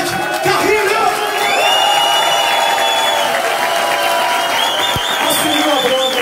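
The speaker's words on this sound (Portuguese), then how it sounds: "Eu quero uma salva de palmas, agora muito maluco." An audience in a bar at a live tribute concert applauds and cheers the drummer, a loud continuous crowd roar with whoops, while sustained sung or played tones ring over it.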